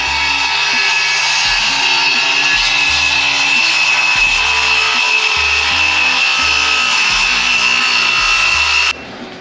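A power saw cuts through a wooden brace and plywood inside a Toyota Tundra CrewMax, a steady loud rasping with rhythmic pulsing strokes, running nearly alone before stopping abruptly near the end.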